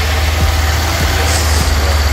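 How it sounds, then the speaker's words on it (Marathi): A motorcycle on its pole stand idles close by after starting, a loud steady low rumble with a faint regular thumping pulse and no talk. "गाडी मी पोल स्टार्ट करतो आहे"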